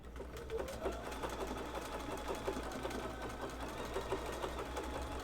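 A sewing machine runs steadily, stitching a wiggly line on women's underwear with a continuous, even mechanical whir that stays soft and unbroken throughout.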